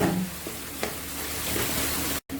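Onion softening in a pan with a hot chili pepper sizzles in a steady, moderate frying crackle with a light clink partway through, and the sound cuts out briefly near the end.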